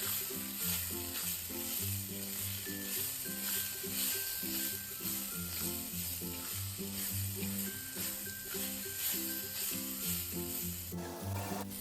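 Bajji chilies fry in a pan while salt is added and stirred in, a continuous soft sizzle running for the whole stretch beneath steady, louder background music, with no voice.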